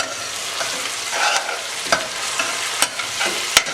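Onion paste for a chicken tikka masala fries over medium heat, a continuous close sizzle punctuated by several sharp spatula scrapes and taps against the pan, with no one speaking.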